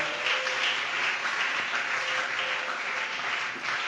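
Church congregation applauding and acclaiming during a worship service, a steady crowd of clapping heard at moderate distance, continuous and fairly soft, with a faint sustained tone underneath.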